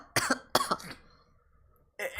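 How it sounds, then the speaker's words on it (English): Two bursts of wet, phlegmy video game coughing close up, each a quick cluster of hacks, then a pause before another cough begins. "These were wet, productive coughs"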